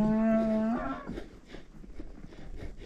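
A single long, low cow moo rises and breaks off during a ranch gathering as cattle are pushed by riders, followed by rustling, uneven ground noise and scattered low thumps.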